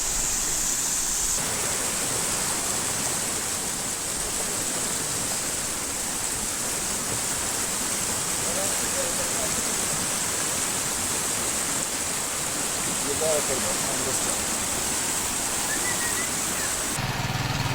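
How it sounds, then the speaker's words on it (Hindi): Rushing water where two rivers meet to form a larger river in the Neelum Valley near Kel, a loud, dense, continuous roar that stays constant throughout with no talk. "ये वो ट्राइका है कि जो दो नदियाँ मिलकर एक बड़ी नदी को जन्म दे रही हैं"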